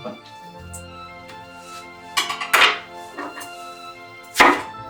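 Several crisp knife chops through a tomato land on a board at an uneven pace, close up, with a soft background hum.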